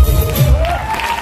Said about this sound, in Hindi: तो कैसी रहेगी उनकी तालियां?